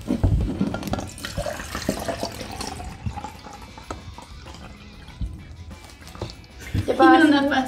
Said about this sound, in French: quand on va remplir le verre d'eau